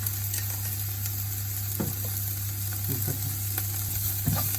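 An onion fries in oil in a pan with a steady, even sizzle, broken by a few soft stirring knocks, while a voice speaks briefly.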